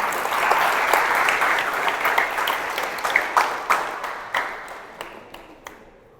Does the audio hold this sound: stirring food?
no